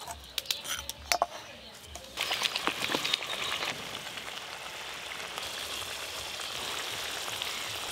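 Curd-based gravy for doi katla fish curry, with sugar and water added, bubbling in a pan: a few clatters first, then a steady hissing simmer that continues evenly to the end.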